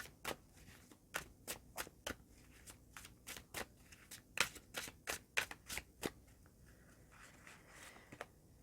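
Tarot cards being shuffled and drawn in a reading for Aries: a rapid series of crisp riffling snaps and card flicks, close and quiet, with no talking.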